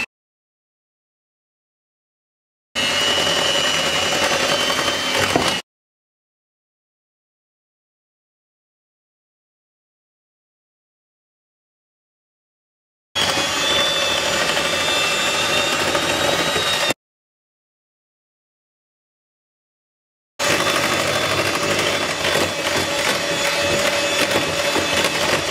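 Electric mixer beating butter and sugar for a pecan and almond loaf cake, heard as three separate bursts of loud, steady motor whir with silence between them.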